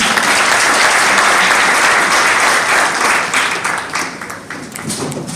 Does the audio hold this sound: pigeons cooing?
no